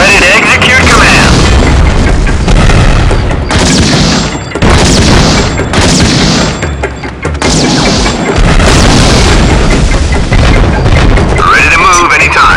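Heavy booming explosions sound as vehicles are destroyed in the Act of War strategy game, loud and dense over continuous battle noise, with radio-style unit voices talking throughout.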